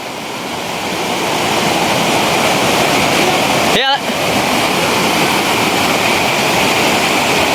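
A river rushes loudly and continuously nearby, a dense broadband roar of flowing water with a brief voice cutting through midway.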